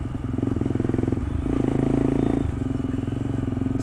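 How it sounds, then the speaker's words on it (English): A motorcycle engine runs at close range with a throttle blip during a clutchless downshift, a rough pulsing idle that briefly swells and revs up, then settles back. "to gear down you just blip, and then you gear down, blip and gear down"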